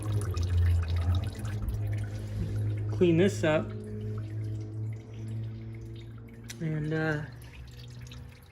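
Coolant drains and drips from a BMW E36 M3 during a coolant flush: a steady trickle over a low hum, with someone briefly talking.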